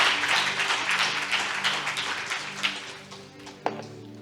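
A church congregation claps together in steady, dense applause, loud at first and gradually thinning, with a few sharp louder claps near the end.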